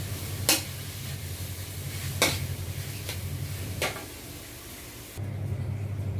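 Tomato and onion sauté in a pan with a constant sizzle under a low hum, cut by several sharp spoon scrapes or stirs spaced a second or two apart.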